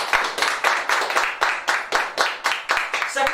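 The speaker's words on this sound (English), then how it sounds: "a round of applause" An audience applauds at a charity Taskmaster-style event, a quick run of about a dozen evenly spaced, close claps with a sparse, small-group feel.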